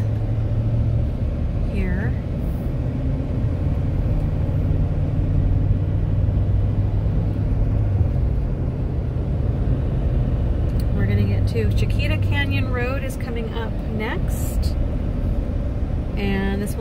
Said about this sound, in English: as we're driving through the community